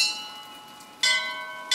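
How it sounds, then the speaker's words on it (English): Bells ring in Bioshock Infinite: a faint lingering tone gives way to a loud, bright bell strike, followed moments later by another strike. "Use the bells."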